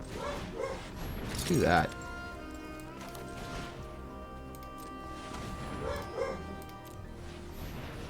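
A dog barks in a room, a short bout of barks near the start, while a person talks over it during a card game session.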